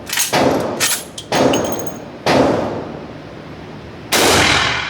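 Old west Colt revolvers and a rifle fire at a shooting range, four loud sharp shots spaced about a second apart, each ringing out with a long decaying tail.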